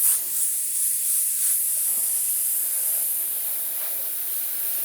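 An airbrush spraying Wicked Detail White paint gives a continuous bright airy hiss, close and fairly loud, staying steady for several seconds with no voices.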